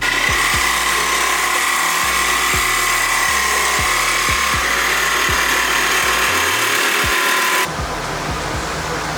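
A power tool blade cuts near a seized bolt on a Honda Civic's lower control arm, a loud steady whine with regular rhythmic pulses of the blade biting metal, running continuously before dropping in tone near the end.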